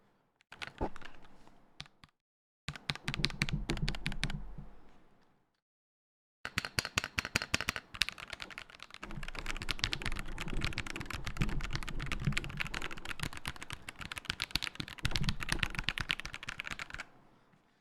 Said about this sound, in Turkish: Hemen klavyemizi çıkaralım. Ses testi istiyor muyuz?